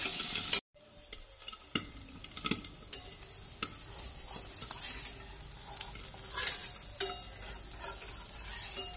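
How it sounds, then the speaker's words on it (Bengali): Food frying in butter in a pan, a soft continuous sizzle broken by scattered scraping and stirring clicks of a utensil, close and fairly quiet, with a sharp knock near the start and no talking. "আমি এটা বাটার দিয়েই ভাজলাম, তেলের উপরেও ভাজা যায়।"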